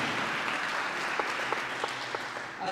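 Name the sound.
applause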